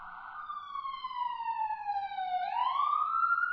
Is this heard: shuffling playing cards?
no